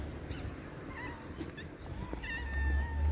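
Several cats meow in short, rising calls, some overlapping, close by over a low rumble of background noise, with no talking.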